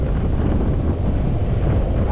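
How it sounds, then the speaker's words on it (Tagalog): Strong northeast monsoon wind buffets the microphone at Paspasan Beach in Aurora Province, a loud, steady roaring rumble with surf mixed in, continuous and close throughout with no voices. "Napakalakas ng hangin dala ng hanging amihan"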